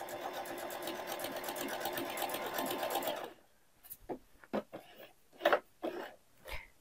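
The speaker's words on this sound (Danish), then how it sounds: "jeg synes, det er utrolig rart med den her blide lyd, der er på maskinen." A Husqvarna Viking Onyx sewing machine runs steadily and close while stitching super-stretchy fabric with a combined seam and overcast, a soft rapid rhythmic whirr that stops after about three seconds, followed by scattered quiet handling knocks.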